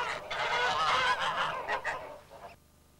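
Several harsh honks from geese on a farm come in a dense cluster, then trail off into quiet.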